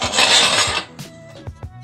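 Metal wing nuts are twisted down on the lid of a jar canning cassette. A loud rasping scrape of threads comes first, then several sharp small clicks and knocks of metal parts as it settles.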